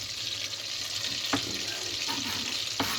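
An ingredient melts and sizzles in a hot pan while stuffing for a Sunday roast is prepared, with a constant close frying hiss and two brief stirring scrapes.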